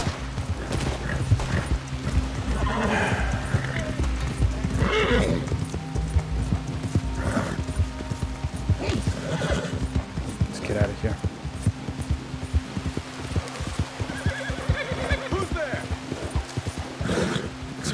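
Clip-clop of a galloping horse in Red Dead Redemption 2, steady hoofbeats with occasional whinnies and game sounds, while a player talks over it throughout.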